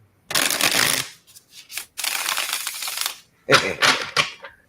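Tarot cards riffle and shuffle in several crisp bursts, close up, with brief pauses between each shuffle and a few soft taps.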